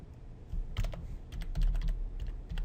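A password is typed on a computer keyboard, with a steady run of soft, close key clicks and a few louder taps, no voices.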